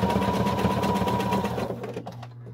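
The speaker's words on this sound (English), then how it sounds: "sewing over these pleats are a little difficult and I need to push it through sometimes" A sewing machine stitches over the pleats of a fabric mask, a rapid, close, rhythmic mechanical whirring that runs steadily and then slows and stops near the end, with no speech.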